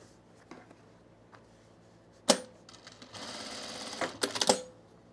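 Home sewing machine stitching a single layer of fabric for cargo pants, a few short buzzing runs of stitches separated by quiet pauses, heard close and alone.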